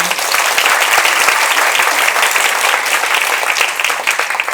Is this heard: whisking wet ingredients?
no